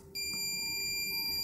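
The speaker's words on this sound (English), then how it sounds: "which triggers a buzzer on the remote, which can be reset using a button on the remote" A buzzer on a lost set-top box remote sounds a steady, continuous high-pitched electronic tone that starts abruptly and holds without pause, close and fairly loud.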